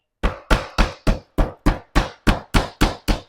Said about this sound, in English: I'm just hammering them back down, folding them over